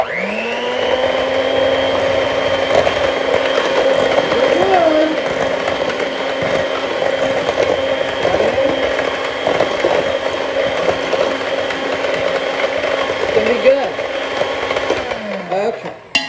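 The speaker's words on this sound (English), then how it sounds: "Miss Kimberly's mixer is so old." An old electric hand mixer whirring steadily through banana bread batter, loud and close with a constant motor whine, brief rattles as the beaters shift, and a short stop at the end.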